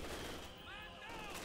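Incendiary rounds crash down in a Company of Heroes 2 battle, a dense rattle of gunfire and impacts filling the whole clip, with faint game chatter mixed underneath.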